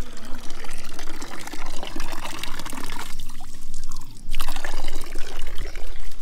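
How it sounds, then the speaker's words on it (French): Water runs steadily from a village fountain in France's Vercors while someone drinks from it, a loud, close, continuous splashing stream with a brief dip in the flow midway. "je vais boire un coup à la fontaine"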